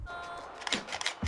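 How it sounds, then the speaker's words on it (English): A DSLR camera shutter fires a rapid burst of about four clicks, close and fairly quiet, after a moment of soft background hum. "you hold down the shutter button and you move slightly to the right or left"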